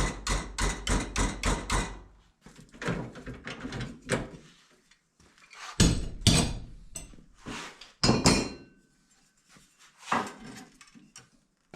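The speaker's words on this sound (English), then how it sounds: "we just clamp it down and tap it down with the 3-pound hammer" Rapid series of sharp metallic hammer blows from a 3-pound hammer bending clamped sheet metal for a Datsun 280Z patch panel, loud and close, coming in bursts with short pauses between groups of taps.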